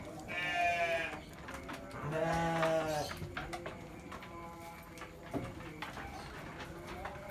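Sheep in a pen at night, where heavily pregnant ewes are kept, let out two loud, close bleats in quick succession, followed by quieter rustling and faint animal noises.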